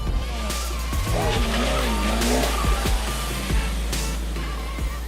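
Tires squeal from a car of about 225 horsepower, rising and falling pitched screeches over a steady engine drone, with scattered thumps and a voice briefly talking.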